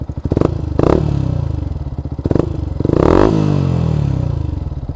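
A Yamaha YZF-R125 motorcycle engine chugs at a rhythmic idle around 1,000 rpm, punctuated by three quick throttle blips that rise and fall, loud and close.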